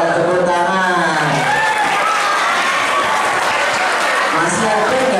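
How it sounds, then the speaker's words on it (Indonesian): Children at a Ramadan religious talk clap loudly together while voices chatter and call out over the clapping, creating a dense, busy crowd sound that stays close and loud throughout. "Ya, tepuk tangan."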